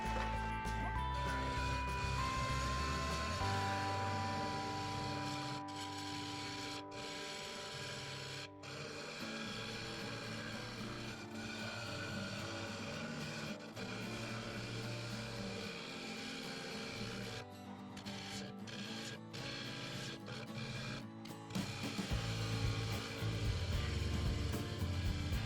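A wood lathe spins a segmented bowl while a half-inch gouge cuts it, a low steady motor hum with rough scraping and chattering tool contact, broken by several brief pauses in the cutting.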